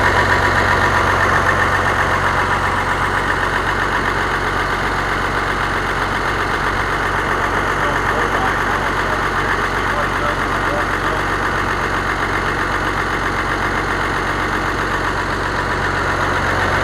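A car engine idles after a valve adjustment, running quieter than before. It gives a steady, close, continuous hum and rumble with no breaks for the whole stretch.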